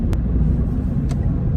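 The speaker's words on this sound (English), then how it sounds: "you can definitely hear road noise and a little bit of wind noise" A SMART car heading onto the freeway, heard from inside: a steady low rumble of road noise with a faint hiss of wind, plus two brief higher ticks. Continuous and fairly loud, with no voices.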